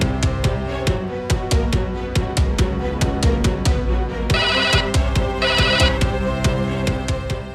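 Phone ringing with an incoming call, a bright electronic ringtone repeating in quick regular pulses with a brief buzzier burst midway, loud and close with no talk.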